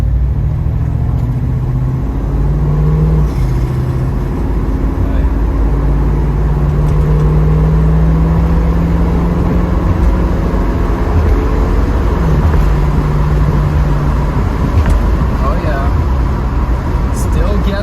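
A 1972 Ford Mustang Mach 1 muscle car with 275 rear gearing driving along, a steady loud engine drone from inside with gear changes and road rumble throughout.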